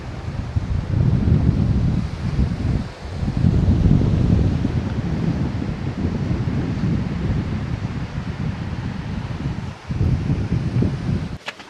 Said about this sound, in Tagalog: Mahangin pa rin talaga.